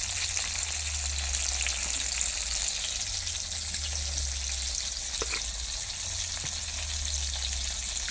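Tomato and sugar fry in mustard oil, a soft, steady sizzle with a low hum beneath it and occasional faint clicks, continuous and free of talk.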